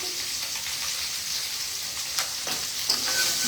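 Fish fries in a pan with a loud, continuous sizzle, broken by a few soft clinks and stirring sounds near the end, and no one speaks.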